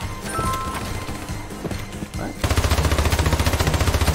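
Gunfire in the video game Hyperbox: irregular shots at first, then a rapid, steady burst of repeated loud firing dominating the second half.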